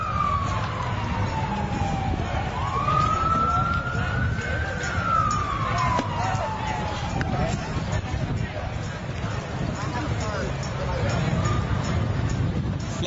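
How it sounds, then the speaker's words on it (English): A police siren wails in the distance, rising and falling once over a steady rumble of crowd and city noise at a street protest march in Washington, DC. "So we do hear some sirens"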